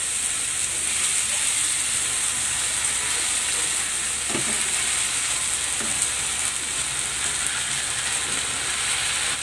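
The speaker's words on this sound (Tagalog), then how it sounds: "Ilalagay ko na itong prinito nating isda" Fried fish goes into a hot pan, giving a constant, even hiss of sizzling oil, steady and close, with a faint clink partway through.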